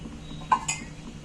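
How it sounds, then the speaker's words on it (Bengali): A metal pan is set down on a lit gas stove with a brief clink and a second light knock, close by in a quiet room. "এবার আমি গ্যাস জেলে এখানে একটা প্যান বসিয়েছি"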